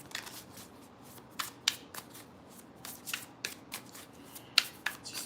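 Close, quiet riffle-shuffling of a tarot deck: soft card flicks and sharp snaps in a loose, irregular run, alone, with no voices.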